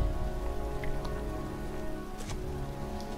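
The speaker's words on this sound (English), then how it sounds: "It's cold. It's raining. I'm standing outside getting soaked." Steady rain in the video game Heavy Rain pattering on a surface, a continuous wash of drops with no voices.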